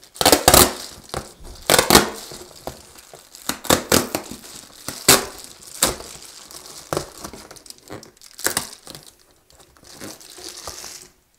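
Loud crinkling and tearing of plastic packaging on a skincare cream box, in bursts of crumpling and ripping with short pauses between, close up and with no talking.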